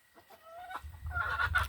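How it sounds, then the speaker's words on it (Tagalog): A chicken clucks softly in short, quick bursts, fairly close, with faint background noise and no talking. "Kini akong manok dire oh."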